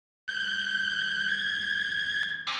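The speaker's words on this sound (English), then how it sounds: "it's kind of like a horror-inspired industrial high synth" Horror-inspired industrial synth with heavy distortion and super fast vibrato: a bright, buzzy sustained tone with a rapid wobble starts abruptly, holds steady, then ends in a sharp noisy burst.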